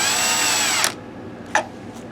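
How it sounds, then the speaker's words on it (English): A power drill whirs steadily for under a second while driving a screw into a BenQ W6000 DLP projector, then stops, followed by a couple of short clicks and faint handling noises. "I'm doing this with the drill"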